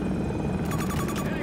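A video-game helicopter thuds with rapid rotor chop that rises over a steady engine drone, mixed in with game noise while players talk in the background.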